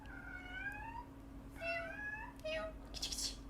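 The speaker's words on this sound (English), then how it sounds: "I'm sure you can hear my cat." A pet cat meows three times in a row, each meow drawn out and clear, indoors against a low steady electrical hum.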